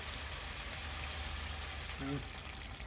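Cauliflower and potato curry with tilapia simmering after hot water is added, giving a steady soft sizzle and bubbling hiss throughout, close and quiet, with a brief voice murmur near the end.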